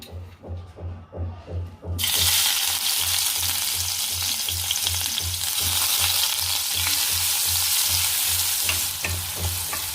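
Onions frying in a pan. A quiet, rhythmic low hum gives way after about two seconds to a loud, dense, continuous sizzle that holds to the end.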